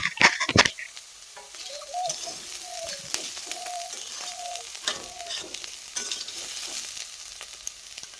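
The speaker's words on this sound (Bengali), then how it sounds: "আর একটু ভাজা হলেই হয়ে যাবে" Soybean chunks and potatoes fry in hot oil with a steady close sizzle and stirring scrapes, while pigeons coo faintly in the background.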